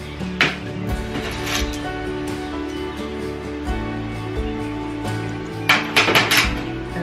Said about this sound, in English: Shake it up really, really good.